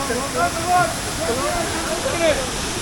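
Waterfall in Bhutan rushing as a steady broadband wash, close and continuous, with voices of people talking over it.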